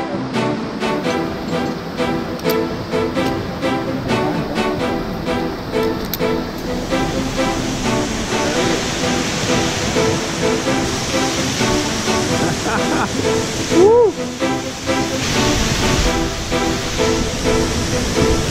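A waterfall in a canyon near Brotas, São Paulo, roars as a continuous, loud rush of falling water close by, with faint voices briefly audible in the middle.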